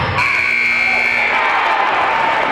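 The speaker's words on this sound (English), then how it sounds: "That was the shot clock buzzer you heard." Shot clock buzzer at a girls' high school basketball game in a gym, a steady sustained electronic tone held for about a second over loud crowd noise that fills the whole stretch.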